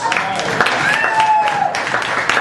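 A round of applause from the crowd at a retirement roast in a Detroit pub, brief clapping and cheering mixed with chatter and voices in a lively room.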